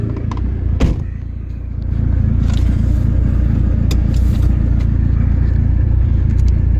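Dodge SRT4 car driving around a parking lot, heard from inside: a loud, steady engine rumble with a few thumps and scrapes, the engine note swelling slightly after the first couple of seconds.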